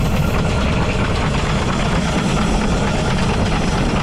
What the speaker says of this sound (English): You'll hear the engine note change. There's a bit more of a crack to it now.